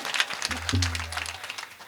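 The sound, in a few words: audience clapping loudly during kirtan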